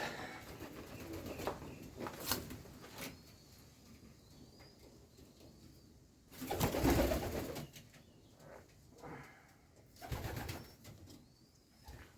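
Wood pigeon chicks give soft, low coos in scattered bursts up close, mixed with rustling and handling noises in a quiet rural setting.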